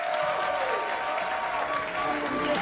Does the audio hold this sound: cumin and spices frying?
no